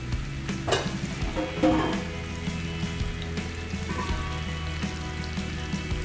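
Sliced mushrooms sizzle steadily in an oiled pan, a continuous close frying hiss with a few sharper pops and faint stirring clinks throughout.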